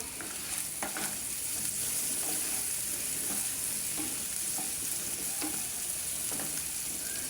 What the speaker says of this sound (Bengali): কাঁচামরিচ শুকনা মরিচ পেঁয়াজ রসুন দিয়ে ভালো করে তেলের মধ্যে ভাজিয়া আমি শাকগুলো দিব